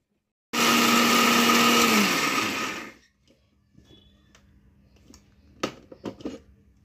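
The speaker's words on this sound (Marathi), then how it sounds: "आता आपल्याला मिक्सर लावून घ्यायचं आहे." A kitchen mixer grinder loudly whirs as it grinds dry dates in its small jar, running for about two and a half seconds before cutting off, followed by faint clinks and handling sounds.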